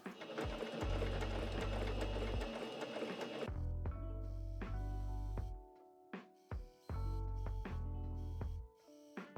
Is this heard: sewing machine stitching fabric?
yes